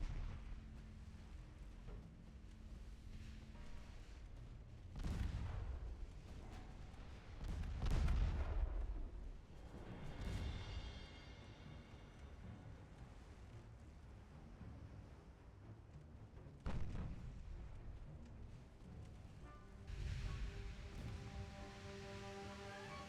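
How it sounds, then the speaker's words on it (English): Distant battleship artillery shelling in the naval video game Ultimate Admiral Dreadnoughts, with several heavy booms and rumbling impacts spread across a steady, noisy background of ship and sea ambience. "They've still got a battleship shelling me from afar."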